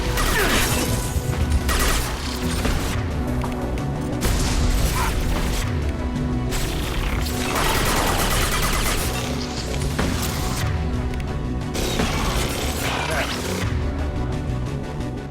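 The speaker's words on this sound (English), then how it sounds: "Firing an impact gun." Heavy mechanical gunfire from an impact gun in the sci-fi shooter Mass Effect 2, a loud, dense stream of crashing, clanking blasts and impacts that continues with little pause.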